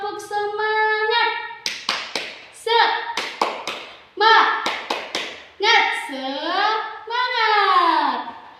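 Sharp rhythmic hand claps in a set classroom cheer pattern, the tepuk semangat, burst in quick groups between sung, chant-like voices calling out the cheer.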